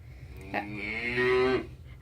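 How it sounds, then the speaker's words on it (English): A single drawn-out cow moo played through a Google Home Mini smart speaker, clear and close with a slightly boxy tone, rising then fading over about a second, alone with no talking. "A cow sounds like this."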